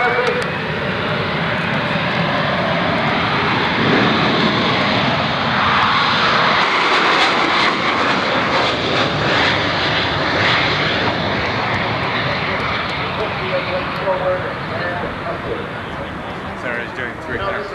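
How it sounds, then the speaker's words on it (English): A Marine Corps aircraft at the 1989 Oshkosh airshow throttles up for a short liftoff of about 100 feet, its engine a loud, sustained roar that swells and holds while an announcer talks over it. "As the power comes up, it's a liftoff technique that only takes about 100 feet."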